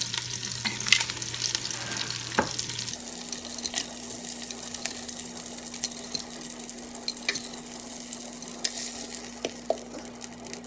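Chicken pieces browning in an electric pressure cooker pot, with a soft continuous sizzle and occasional light clinks of a utensil in the pot, fairly quiet and steady, with no talking.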